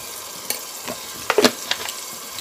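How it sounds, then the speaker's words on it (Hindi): Potato and eggplant pieces sizzle in hot oil with half a teaspoon of turmeric, a steady frying hiss with a few sharp crackles and scraping stirs, close and fairly quiet. "इसको हम भून लेंगे इसमें मैंने डाल दी है हाफ टी स्पून हल्दी"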